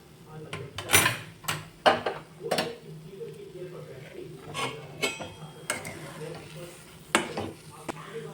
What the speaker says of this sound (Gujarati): હવે આપણે બધું આને મિક્સ કરી લઈશું